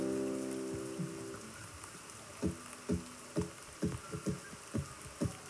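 Steady rain patters down at an outdoor evening concert, a dense wash of drops with sharper splats and thuds landing close by, preceded briefly by a fading low tone, with no voices.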